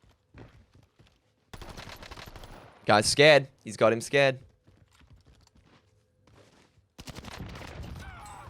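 Gunfire in the video game Call of Duty Warzone, with a rapid burst of shots followed later by another sustained volley, heard at moderate volume. Two loud spoken phrases break in between the bursts.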